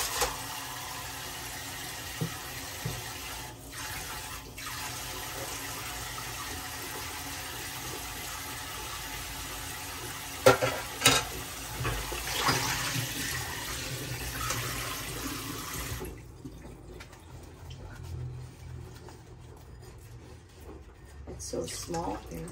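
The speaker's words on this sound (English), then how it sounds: "So I will do dishes and then get cooking" Tap water runs into a small kitchen sink while dishes are washed, a steady soft hiss and splash with occasional clinks. It is fairly quiet and close, and it cuts off near the end.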